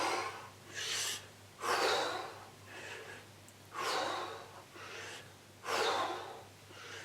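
Slow, deep breaths during a yoga exercise, with about six audible breathy exhalations and inhalations coming in an even rhythm, close and fairly quiet against a low background hum.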